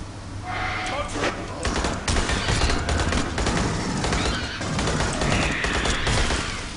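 Rapid weapon fire against aliens in Aliens: Colonial Marines, sustained bursts and crashes running almost throughout, with a voice talking over the shooting.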